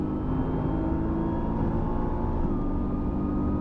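A 2020 Nissan GT-R Nismo launches on a quarter-mile run, a steady, loud engine roar heard from inside the car, holding a continuous drone throughout.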